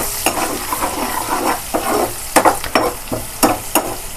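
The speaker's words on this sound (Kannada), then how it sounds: "ಸೊ ಈಗ ಇದನ್ನ ಚೆನ್ನಾಗಿ ಫ್ರೈ ಮಾಡ್ಕೊಳ್ಳಿ." Onions frying with salt and turmeric in a pan, a steady sizzle broken by repeated scraping stirs of a spoon, loud and close with no voices.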